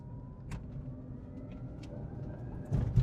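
A restored electric Solectria Force car creeps along slowly, a quiet low rumble and motor whine with a few faint clicks and a louder bump at the end.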